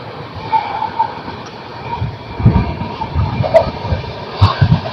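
The Saraighat Express passenger train runs on rails between Bhedia and Bolpur on its Howrah to New Jalpaiguri route, a steady, close, loud rumble with rhythmic wheel clacks and a few sharper knocks toward the end.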